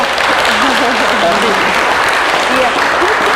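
A studio audience claps steadily and loudly for the full length at a televised cultural talk show, a dense continuous wash of applause with a voice speaking underneath.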